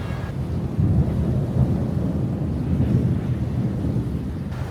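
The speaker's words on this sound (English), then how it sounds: "I just got back before this thunderstorm hit." Heavy thunderstorm in Kuala Lumpur: deep sustained rumbles of thunder over constant rainfall, loud and close throughout.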